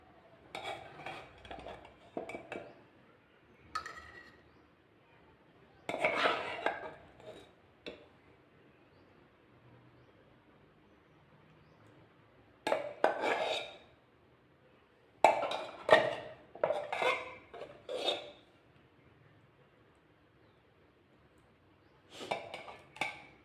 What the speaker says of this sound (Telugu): ఈ కర్రీని నేను బౌల్లోకి తీసుకుంటాను.